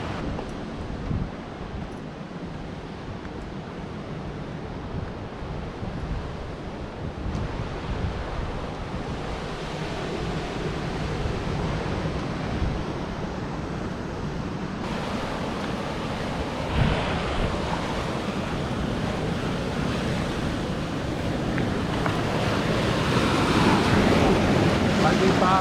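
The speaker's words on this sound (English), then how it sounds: "I really want to film these big waves with a drone" Big ocean waves crash and rumble along the Candidasa coast in Bali, a continuous loud roar of surf mixed with heavy wind buffeting the microphone, building slightly toward the end, with no talking.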